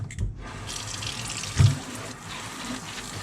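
Warm water from a faucet pours steadily into coir growing medium for pea shoots, a close, continuous sink-tap stream with a brief splashy surge midway.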